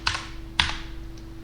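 Typing on a computer keyboard at close range, two short crisp clusters of key clicks separated by a brief pause over a faint steady hum.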